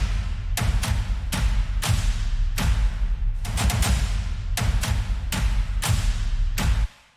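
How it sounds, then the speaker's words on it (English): Dubstep build drums: a loud, dense sequence of heavy processed hits, each a broadband thump with a long bright tail, about a dozen across, with gaps of uneven length and nothing else playing. "Then there are the main build drums,"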